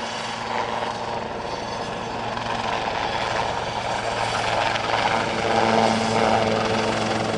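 A Westland Lynx helicopter roars steadily nearby at an airshow, its engine and rotor noise dense and constant throughout, growing slightly louder toward the end.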